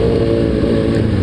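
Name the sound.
motorcycle engine accelerating after shifting to second gear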